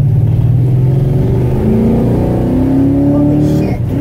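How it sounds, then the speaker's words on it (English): A 1967 Pontiac LeMans with a freshly installed engine and a slipping transmission accelerates from a driveway, its loud, close engine drone rising steadily in pitch as it revs. "Got some transmission slippage."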